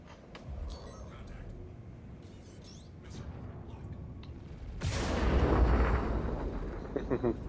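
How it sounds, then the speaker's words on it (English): Missiles launch in the space game Star Citizen, a low rumbling roar and bursts of launch blasts that swell into a loud, dense roar partway through, with layered in-game effects. "Four missiles away."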